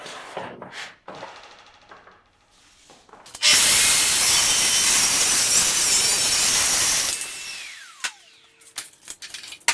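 A Festool saw cross cuts a clamped wood board in one continuous pass, a loud, close, high whining roar lasting about four seconds, preceded by clicks and handling noise and followed by the blade spinning down and small clatters.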